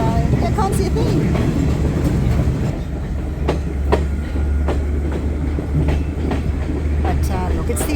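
Rail carriage rolling through the Sri Lankan hill country on the Nanu Oya to Ella line: a steady loud low rumble with rhythmic clickety-clack of wheels over rail joints, occasional sharp knocks and faint voices in the carriage.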